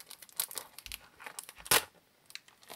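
A small foil packet holding a Stikeez collectible figure is torn open by hand, giving a few quick crinkles and one sharp rip, close and fairly quiet.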